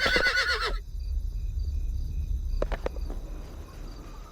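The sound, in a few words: horse mount neighing in Sacred Reborn video game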